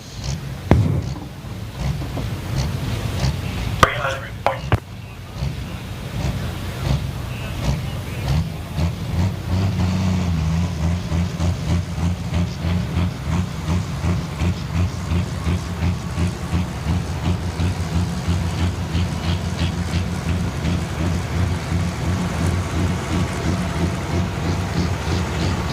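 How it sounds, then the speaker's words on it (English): A pulling tractor called the Loud and Heavy X roars at a tractor pull at 300 Raceway in Farley, Iowa. The loud, sustained engine drone pulses rhythmically after a brief surge near the start, with no clear talk. "As Brandon Simon will be our next tractor up here"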